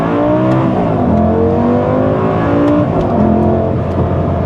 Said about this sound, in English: One last good acceleration run.